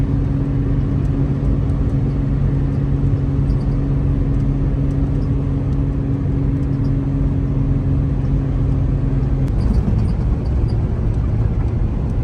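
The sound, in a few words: car driving on a road trip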